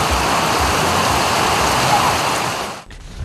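Heavy morning rain pours down in an urban district, a dense, loud, steady hiss of falling water that cuts off abruptly near the end.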